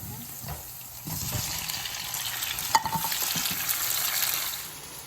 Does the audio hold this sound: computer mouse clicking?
no